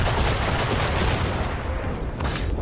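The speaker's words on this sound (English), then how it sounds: "this is when the cannons start going off in between my legs" Cannons fire in Assassin's Creed 3 as a dense, continuous barrage of booming blasts and crackling gunfire, loud and close throughout with no speech.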